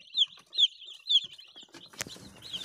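A farm bird, likely a chicken, makes three short rising clucking calls at steady intervals, fairly close, followed by a sharp knock and some rustling, with no talk.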